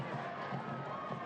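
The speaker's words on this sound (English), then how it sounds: "that goal was greeted with great applause here" Stadium crowd at a North Carolina FC versus Saint Louis FC soccer match roaring and applauding after a goal, a broad sustained wash of cheering and clapping at steady loudness.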